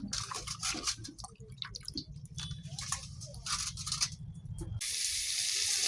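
Rice being washed by hand in a pot of water at home: soft sloshing, squishing and dripping close up, then a steady hiss of running water near the end.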